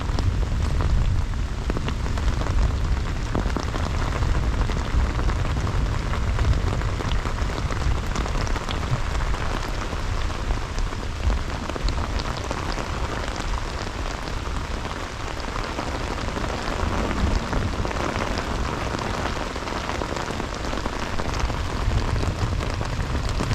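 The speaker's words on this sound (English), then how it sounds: "It's thundering like crazy. Lots of lightning too. Really crazy, crazy loud thunder." Heavy rain pours steadily at a woodland bushcraft camp in a thunderstorm, a dense, even roar of drops that holds for the whole stretch without easing, thunder not standing out clearly.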